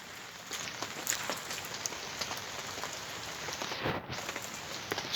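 Rain from Storm Dennis falls steadily on a floodplain campsite, a dense even patter on surfaces with occasional louder nearby drops, continuous and moderately loud with no voices.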